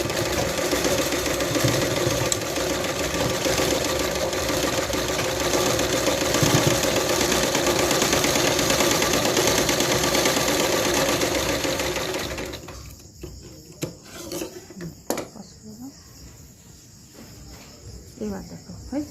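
A sewing machine stitching a salwar runs in a steady, fast, even whirr for about twelve seconds, close and loud, then stops, leaving quiet handling sounds and small clicks.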